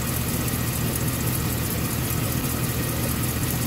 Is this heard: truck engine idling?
yes